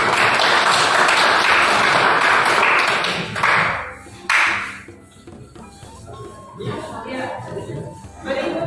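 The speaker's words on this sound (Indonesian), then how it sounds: "Lalu kita tepuk tangan untuk kelompok." Classroom applause for a student group after their presentation, a dense burst of clapping that fades out after about four seconds, followed by quieter room noise with scattered taps and murmurs.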